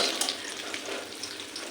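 Green chillies frying in plenty of hot oil, giving a steady, close crackling sizzle with fine bubbling throughout and no voices.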